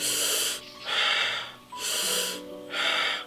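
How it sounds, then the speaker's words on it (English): A player breathes in through the diaphragm, shoulders still, while preparing to play a wind instrument; two long, loud, airy inhalations, each about a second, alternate with brief quieter gaps, close and with no talk. "But when I breathe correctly with my diaphragm,"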